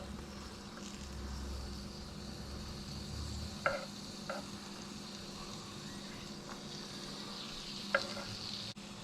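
Garlic frying in bubbling butter and olive oil for garlic prawns, a steady sizzle running throughout with a few sharp clinks and stirring knocks near the middle and end.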